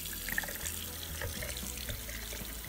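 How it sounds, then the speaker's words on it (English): Tap water runs over a flow control manual cartridge held under the stream in a sink, a steady close splashing wash with faint dribbles and no talking. "place under running water"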